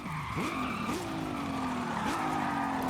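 In the video game Forza Horizon 5, a car slides and skids with a squealing tire tone that bends up and down over the steady engine note, continuous and close with no speech.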